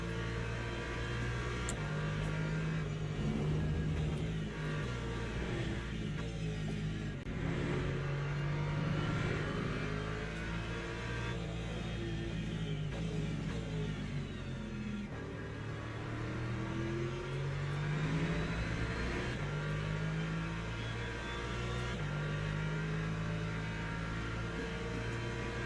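Le Mans Ultimate racing game hypercar engines drone continuously, layered engine tones rising and falling as the cars rev and shift, steady and fairly loud with no talking.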